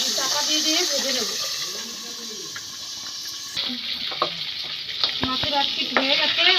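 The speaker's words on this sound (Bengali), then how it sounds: "এবার আমি মাছের মাথাগুলো ভেজে নেব।" Catla fish heads frying in hot mustard oil in a kadai, a steady loud sizzle with occasional stirring and scraping clatter, and a voice talking over part of it.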